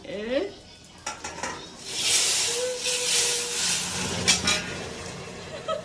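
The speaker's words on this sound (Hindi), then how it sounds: "अब देखना मम्मी का तड़का लगेगा" Tempering spices hit hot oil with a sudden loud sizzle that hisses steadily for several seconds, with a few metallic clinks of a pan and utensil nearby.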